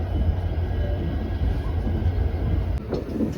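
A diesel-hauled Yesvantpur–Mangaluru passenger train (16575) rumbles with a deep, steady drone during brake testing, then a short sharp hiss and clank break in near the end.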